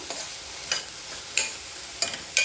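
Mixed vegetables fry in oil in a pan for vegetable oats, with a soft continuous sizzle broken by four or five sharp stirring scrapes at a steady rhythm.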